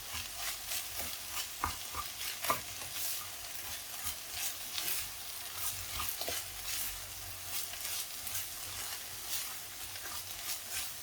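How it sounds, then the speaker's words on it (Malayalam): Spinach and scrambled egg being mixed in a pan give a steady low sizzle, with soft scraping stirs and a few sharper clicks of the spatula against the pan throughout. "ഇനി നമുക്ക് മിക്സ് ചെയ്യാം"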